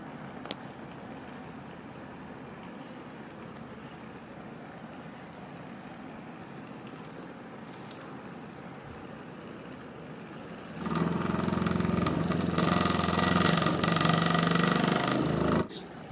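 A BLDC motor running on a homemade motor controller at low voltage, a faint steady whir that swells abruptly into a louder, rougher mechanical buzz near the end, with no talk.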